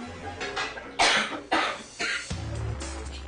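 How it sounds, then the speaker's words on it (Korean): A middle-aged mother coughs suddenly while sitting with her daughter and the daughter's boyfriend. There are three sharp, fairly quiet coughs in quick succession, with soft room murmur between them. "갑자기 기침을 하는 어머니"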